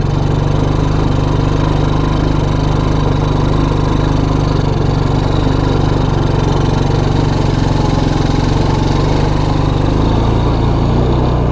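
The engine of a Suzuki King Quad 300 ATV runs steadily at low speed while being driven gently, a loud, close, continuous rumbling drone with little change throughout.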